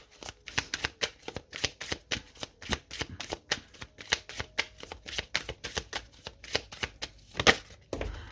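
Oracle cards shuffled close up in a quick, steady series of crisp riffling snaps and soft slaps, repeating rhythmically with no talking.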